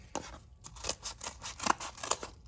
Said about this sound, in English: trace the basic shape of it, and cut another one